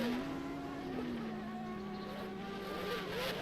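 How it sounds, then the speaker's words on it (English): Race cars at a Group C event of the 2022 Patriot Grand Prix drive out onto the track with a steady engine drone whose pitch slowly falls, heard at moderate distance with no talking over it. "Cars are now making their way up through 1 and 2 and up the hill"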